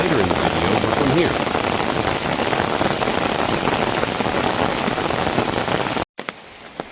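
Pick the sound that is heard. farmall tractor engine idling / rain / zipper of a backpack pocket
rain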